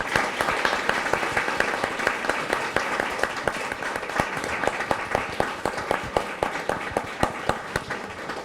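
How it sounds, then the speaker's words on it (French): Audience applause after a creative talk with a company CEO, dense and close, with sharp individual claps standing out in a fairly even rhythm as the ovation carries on steadily. "on va te remercier par une salve d'applaudissements"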